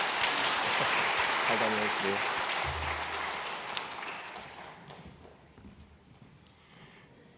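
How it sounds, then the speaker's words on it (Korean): A church congregation at a Sunday worship service applauds in encouragement after a prayer. The clapping is loud at first, then fades over several seconds, with a voice speaking over it. "박수로 한번 격려하겠습니다"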